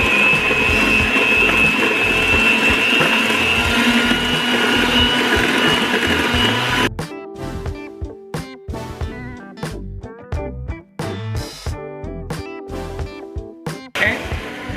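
An electric hand mixer whirs steadily while beating pecan pie filling, a loud continuous drone for about seven seconds before it stops, followed by scattered clinks and taps of utensils.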